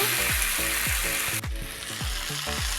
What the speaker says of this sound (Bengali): আমার বেগুনটা পুরো একদম তেলে ভাজা হয়ে আছে